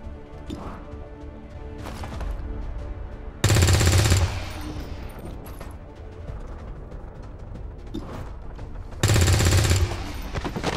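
Machine gun fire from the video game XCOM 2 comes in two loud, sustained bursts against quieter in-game ambience and softer impacts.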